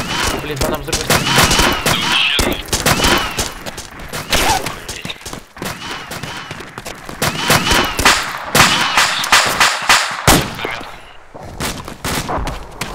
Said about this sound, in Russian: по нам взрывает